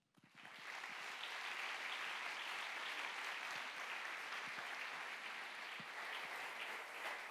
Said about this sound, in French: c'est Tobias Brosch qui va vous présenter tout ça et que je vous propose d'applaudir.